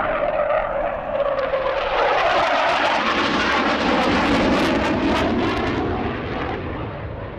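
A SAAB J-35F Draken jet roars loudly and steadily at an air show, a dense broadband engine rush that holds strong throughout and eases slightly near the end.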